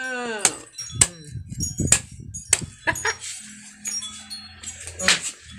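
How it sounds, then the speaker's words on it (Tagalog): A young coconut is split open with a sharp blade in a series of sharp, separate whacks spaced about a second apart, with people talking and moving around nearby. "Biyakin ang buko."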